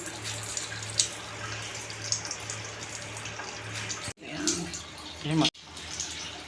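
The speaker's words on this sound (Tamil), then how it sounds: "நல்லா மூழ்கிற அளவுக்கு தண்ணி வச்சுக்குவோம்." Water splashes and gurgles as it is poured into a pan of cabbage, with clattering handling noises and a low background hum, fairly close.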